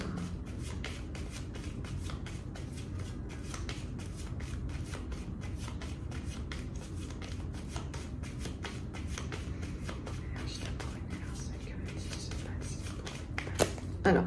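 A deck of 32 playing cards being shuffled for a card reading, a continuous close riffle of rapid papery flicks and slides that runs throughout with no pauses.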